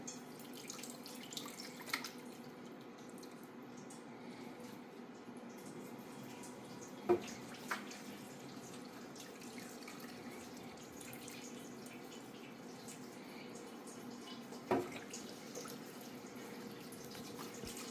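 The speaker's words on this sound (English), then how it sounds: "I can hear it draining down in there" Broth drains through a tea towel into a kitchen sink, giving a steady, soft watery trickle with occasional drips and a couple of brief clunks.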